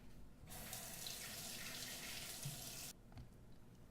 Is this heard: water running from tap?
yes